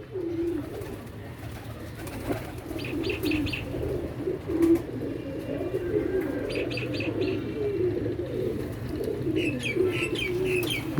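Pigeons coo softly and repeatedly in the background, with faint chirps and tweets over a low steady hum of the surroundings, no talking heard.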